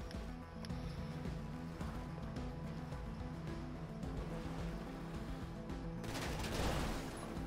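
Grand Theft Auto V gunfire crackles in scattered bursts over a low ambient rumble, fairly faint and distant, with a brighter burst of noise near the end and no clear talk.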